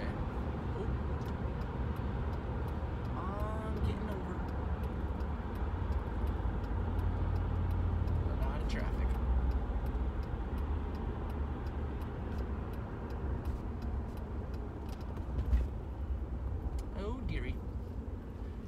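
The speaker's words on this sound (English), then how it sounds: "there's a lot of traffic" Road traffic in Florida rumbles steadily for the whole stretch, a low continuous drone of passing cars at moderate distance with a few faint ticks and chirps on top.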